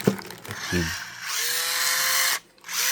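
A borrowed power drill whirs in bursts at close range, short starts and then a sustained spin that stops abruptly before starting again, with a voice heard briefly at the start.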